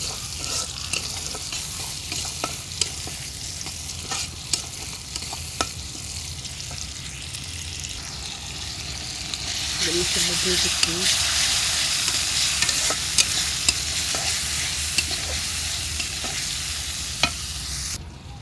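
Meat cooking in a pan for a pre-dawn sehri meal, a steady close sizzle with stirring scrapes and clicks that grows louder and denser partway through, with no talk.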